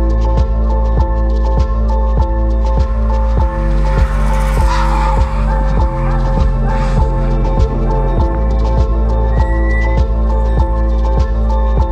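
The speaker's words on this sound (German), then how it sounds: "Man sollte in einer bergab verlaufenden Kurve eine Vollbremsung hinlegen." BMW M4 braking fully through a downhill corner on the Bilster Berg track, with loud, sustained engine noise and tire squeal rising in the middle of the run, steady and close throughout.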